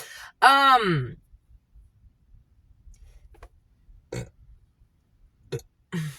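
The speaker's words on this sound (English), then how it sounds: "When I burp, that means we're clearing negative emotions." A single loud, drawn-out burp from a person, followed by quiet and a few brief soft vocal sounds.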